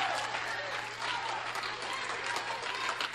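A church congregation applauds steadily and loudly throughout, a dense wash of clapping from many hands with crowd noise mixed in, plus a constant low hum underneath.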